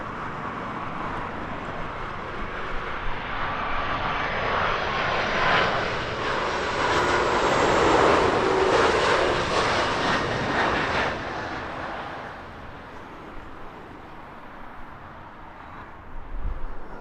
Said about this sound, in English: spend an afternoon watching the planes overhead